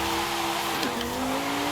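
A Lamborghini Huracan Evo in Forza Horizon 5, tuned for all-wheel-drive drifting, holds a loud, sustained engine roar with a brief tire squeal as it slides.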